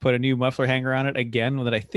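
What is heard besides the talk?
None of the usual background noises is heard.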